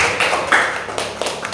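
A group of school staff in an indoor meeting claps together, producing a dense, close wash of hand claps that rises and falls over about a second and a half.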